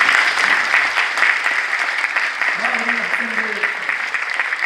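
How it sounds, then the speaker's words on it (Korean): Audience applause at a 120th anniversary ceremony of Chongshin University, a steady wash of many hands clapping throughout, with a brief voice surfacing midway. "우리 함께 영광의 박수를 한번 드리고 좋겠습니다"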